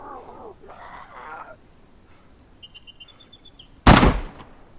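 A single loud gunshot rings out in the DayZ survival video game, a sharp broadband crack near the end after quiet ambient noise, brief speech and a couple of thin electronic tones.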